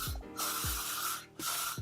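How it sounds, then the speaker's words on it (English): Hair spray goes onto a short wavy wig to set the curls, two long hissing bursts from an aerosol can, each lasting close to a second with a short pause between, close and clear. "So I'm going to spray it"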